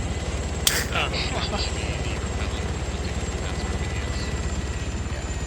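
Steady rotor thump of an Arma 3 helicopter during an air drop training, running throughout, with a brief sharp click early on and faint voices in the background.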